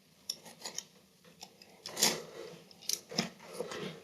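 A small knife scrapes and slices across wallpaper around a stone wall in short, uneven strokes, close and crisp, with faint clicks and rustles between cuts.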